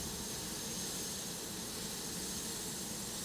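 A tourism service helicopter's engine gives a faint, steady, even roar with no distinct beats, heard alone without voices.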